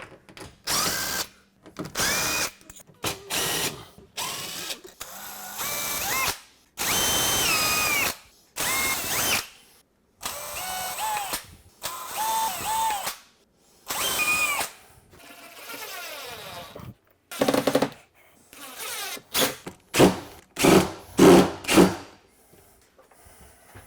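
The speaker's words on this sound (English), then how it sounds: "We will pre-drill" A power drill pre-drills holes for hanging Shaker-style kitchen cabinet doors, firing in repeated short whirring bursts with brief pauses between them, close and fairly loud.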